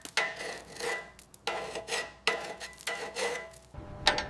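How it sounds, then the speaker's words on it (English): Paint being scraped by hand off an old, rusty bicycle down to bare metal: repeated rasping strokes in bursts, close and fairly quiet, with short pauses between passes. "Peeling paint is carefully scraped away to reveal bare metal."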